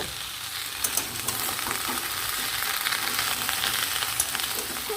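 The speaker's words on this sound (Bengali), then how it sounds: "পুঁই শাকের ডাঁটাগুলো দিয়ে খুব ভালোভাবে সব সবজিগুলোকে একসাথে ভেজে নেব" Mixed vegetables with Malabar spinach stems fry together in a pan, a continuous near sizzle and crackle with light stirring scrapes throughout.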